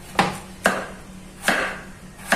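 A knife chops through chicken pieces on a board for a chicken dish: four separate, crisp, close thuds at irregular intervals, with no talk between them.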